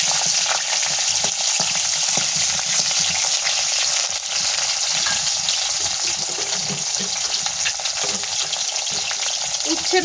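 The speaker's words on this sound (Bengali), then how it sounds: "সর্ষের মধ্যে উচ্ছেগুলো দিয়ে দেবো" Bitter gourd frying in mustard seeds in a pan, a continuous close hiss of sizzling oil with scattered stirring scrapes, steady throughout and with no talking.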